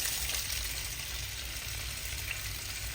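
Onions and peppers frying in hot oil in a skillet, a steady close sizzle with crackling spatter running evenly throughout, no voices.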